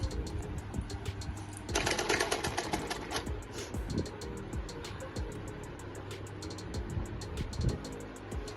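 A sewing machine stitches a bias strip onto the neckline of a kurta, running in a steady rapid mechanical chatter with a brief louder, faster burst partway through, close by and without talk.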